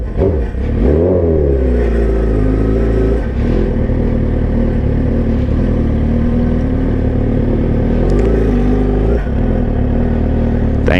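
A Suzuki GSX-R 1000cc motorcycle engine with a loose metal piece rattling in its exhaust runs loud and close, revving up at the start and then holding a rough, throbbing idle with metallic clatter.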